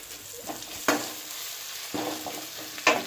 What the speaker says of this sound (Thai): นี่ผัดพริกให้หอมก่อนนะครับเพื่อน พริกกระตำพริกกระเทียมนะคะ ผัดพริกให้หอมก่อน